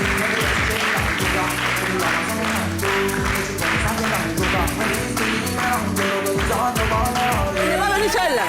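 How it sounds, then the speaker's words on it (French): A live audience at a Côte d'Ivoire holiday television show applauds, a loud continuous clatter of clapping with rhythmic accents over background music, lasting throughout with a voice shouting near the end. "Applaudissez."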